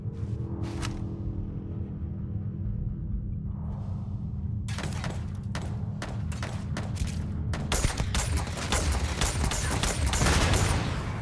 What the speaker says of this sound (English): I shot a explosive barrel or something